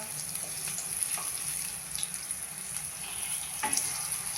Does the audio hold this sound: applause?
no